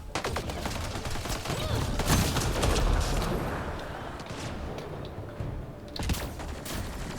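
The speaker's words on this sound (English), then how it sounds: "Who's shooting ice at me?" Cryo ammo gunfire in a firefight with raiders in Mass Effect Andromeda's desert, rapid crackling bursts of shots layered with game effects, loud and continuous, with a voice briefly heard over it.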